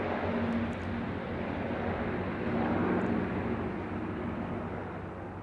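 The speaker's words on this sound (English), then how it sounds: "Lovely to see all these old planes" A formation of old propeller planes flying over a harbour gives a steady, broad droning roar that swells slightly and then eases, with no voices.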